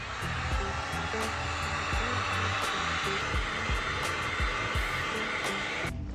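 A hair dryer blows hot air onto the glued footbed of a Vans high-top trainer. It makes a steady, loud, close whooshing roar that runs without a break for the whole stretch.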